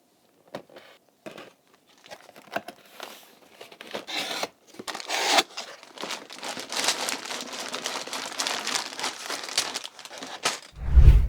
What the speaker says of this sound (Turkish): Kutuyu açıyorum.